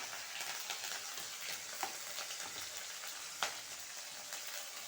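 Curry leaves crackle and sizzle in hot oil for a ridge gourd dal tempering, a steady dense frying hiss with a couple of sharper pops, close and alone with no talking.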